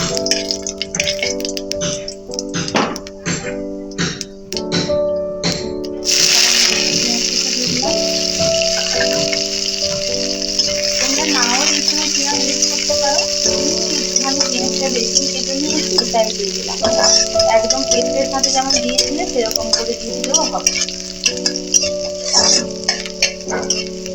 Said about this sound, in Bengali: প্রথমে হচ্ছে একটুখানি সাদা জিরে দিয়ে দিলাম জিরেটা একটুখানি ভাজা ভাজা মতো হলে